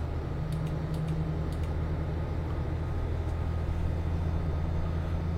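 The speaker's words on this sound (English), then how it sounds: "that's one of my tape machines rewinding" One of several reel tape machines rewinding in a home room, giving a steady, continuous whirring hum with a strong low drone and faint high ticks, running on its own without talk.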